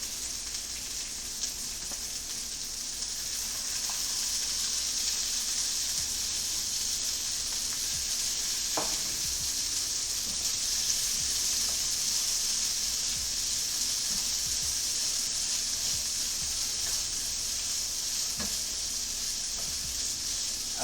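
Steady, loud hiss of garlic shrimp sizzling in a hot pan, continuous throughout with an occasional faint clink or stir.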